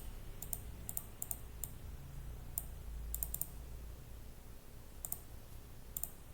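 Sharp mouse clicks on a computer, clicking a submit button in an Excel entry form, come in small clusters and single taps spread across a faint steady room hum, with no talking.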